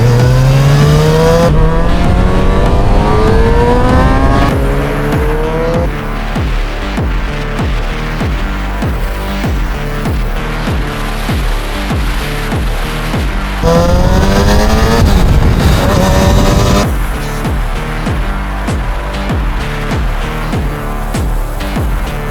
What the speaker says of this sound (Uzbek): Mototsiklimiz 4 silindrli bo'ladi akalar.